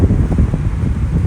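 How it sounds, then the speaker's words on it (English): Strong wind buffeting the microphone outdoors at a beach house construction site in Barbados, a loud, continuous low rumble with no clear pauses or voices. "Sorry about the wind."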